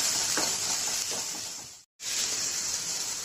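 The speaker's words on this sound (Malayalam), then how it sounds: "അതിനുശേഷം ഓയിൽ ചൂടായതിനു ശേഷം ഞാൻ ഇതാ അവിടെ ഇഞ്ചി വെളുത്തുള്ളി പേസ്റ്റ് ചെയ്ത് വെച്ചിട്ടുണ്ട്, അത് ആഡ് ചെയ്യാം" Ginger garlic paste sizzles in hot oil, a steady bright hiss close up, with a couple of soft stirring scrapes before a brief dropout and the sizzle resumes.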